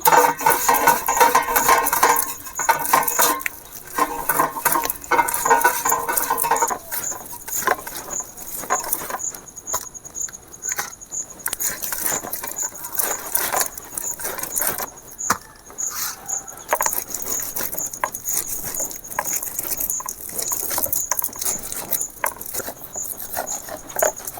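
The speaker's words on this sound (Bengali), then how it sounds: "এবারে আমি তালটা গ্রেট করে মাড়িটা বের করে নেব।" A ripe palm fruit, its seeds softened with a little water, is grated by hand to pull out the pulp. Close, rapid, continuous scraping and rasping runs throughout, busier at the start, with no voices.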